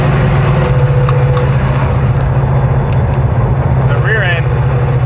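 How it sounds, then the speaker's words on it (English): Dodge Charger, a vintage circle-track car, driving at about 59 mph with a loud, droning rear end and a steady low engine rumble, under faint voices. "The rear end is hopping up and down. Rear end is loud."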